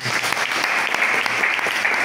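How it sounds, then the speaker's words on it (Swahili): Church congregation clapping, a dense steady round of applause filling the whole stretch at moderate loudness with no voices over it. "Hebu jipigeni makofi mazuri"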